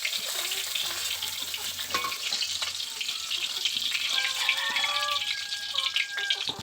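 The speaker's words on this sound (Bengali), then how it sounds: "এবার আমি পটলগুলোকে একটু ভালো করে ভেজে নেব।" Pointed gourd pieces frying in oil in a pan, giving a steady close crackling sizzle with small pops and light clinks throughout, with no talk.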